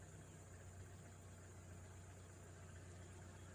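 A car engine idles at about 850 rpm, a steady, low, even hum that stays faint and unchanging throughout, with no voices.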